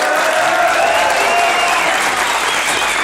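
Studio audience applause on a French TV show, a loud, dense, unbroken wash of clapping that holds steady throughout.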